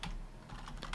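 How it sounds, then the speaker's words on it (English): Rapid, close clicking of keys on a computer keyboard while search keywords are entered for a Google Ads campaign, a busy run of keystrokes with no speech. "So I'm going to start typing some of these in."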